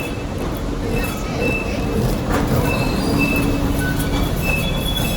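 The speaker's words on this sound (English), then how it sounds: "That's just a tram." A tram rolls past on its rails, with a steady broadband rumble and thin, high wheel squeals drifting in and out over several seconds, close and fairly loud.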